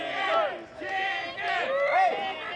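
A pro wrestling crowd jeers and shouts at a wrestler who ran out of the ring, a loud, sustained mass of voices that rises and falls in waves.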